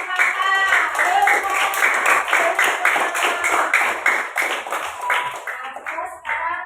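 A group claps hands in quick, even rhythm for several seconds, loud and close, before the clapping gradually thins out and fades.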